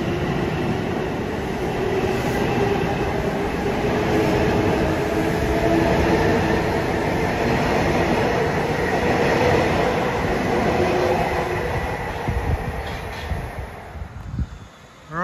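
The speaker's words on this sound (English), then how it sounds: "Coming fast on 1 at 525 is 1056. Penn Station to Ronkonkoma, M3s." An eastbound Long Island Rail Road M3 electric train from Penn Station to Ronkonkoma passes Merillon Avenue station at speed, a loud sustained roar and rattle of wheels on rails that fades out at the end.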